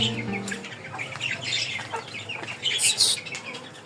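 Chickens and chicks clucking and squawking in a cage, with shrill high chirps and occasional wing flaps, close and busy with no talking.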